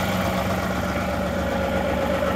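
A John Deere 2038R compact tractor engine runs at a steady idle, giving a continuous, even mid-range drone with a constant hum and no rhythm changes. It sounds close and moderately loud, with no talking.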